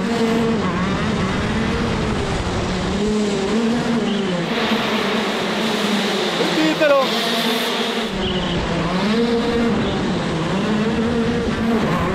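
Go-kart engine revving steadily and loudly, its pitch rising and falling in waves across the whole stretch, with voices talking over it.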